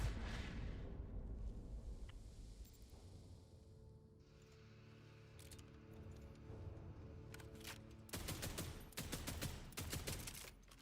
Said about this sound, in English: That's a normal shotgun.